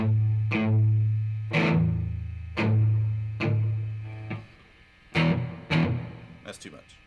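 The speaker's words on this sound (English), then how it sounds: "let's get a little reverb too" An electric guitar with reverb added plays a series of strummed chords in a slow rhythm, each ringing out and trailing off, then a few quicker hits near the end, loud and close.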